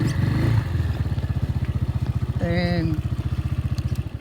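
A Braaap ST 250 motorcycle ridden hard through rough corners, its single-cylinder engine thumping in a fast, pulsing rhythm that swells briefly under load, with someone speaking over it.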